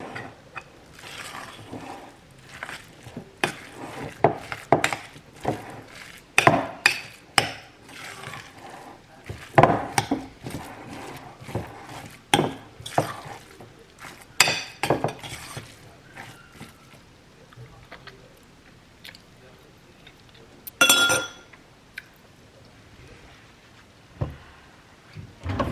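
A spoon stirs a broccoli galette mixture with grated comté and nutmeg, making irregular bursts of clacking, scraping knocks against the bowl, close and intermittent, with quieter pauses between strokes.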